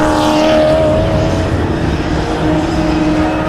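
Two Mazda RX-7 production race cars running side by side in a close racing battle, their engines a loud, continuous, near roar with steady droning tones throughout.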